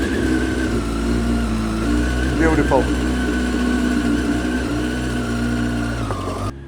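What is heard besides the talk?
motorcycle engine with aftermarket exhaust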